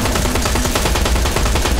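Rapid bursts of gunfire from a video game, dense and loud, with repeated shots blending into a continuous rattling volley throughout.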